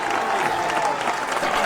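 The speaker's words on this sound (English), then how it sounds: "clap hands for this man" A studio audience claps for a guest on a talk show, a dense burst of applause that stays loud and even for under two seconds.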